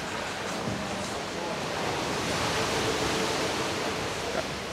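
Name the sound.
beach waves at Sanur beach, Bali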